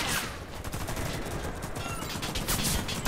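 Dense, continuous automatic gunfire from the Warface shooter, Operation Cold Peak mission, including sniper fire, rattling in overlapping bursts at steady loudness for a few seconds with no talk.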